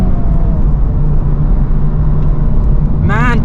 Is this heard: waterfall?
no